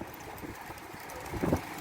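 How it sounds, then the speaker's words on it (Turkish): Steady wind rumbling and buffeting close to the microphone, with a stronger gust toward the end; no voices. "Kuşa baksanız arkadaşlar uçamıyor bile"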